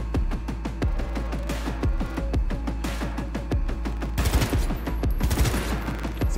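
Near-continuous gunfire in Cyberpunk 2077 on Very Hard difficulty as a Street Rat, sharp repeated shots overlapping in dense volleys with a heavier stretch of fire near the end, loud and close.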